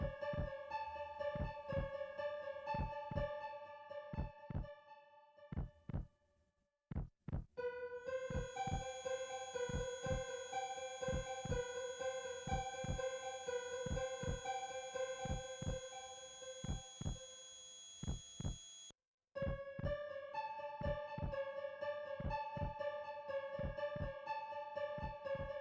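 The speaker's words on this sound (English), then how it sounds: "You guys hear that heartbeat?" A steady heartbeat-like pulse from the Final Fantasy VII (1997) video game plays as regular low thumps under layered synth music, with no talking.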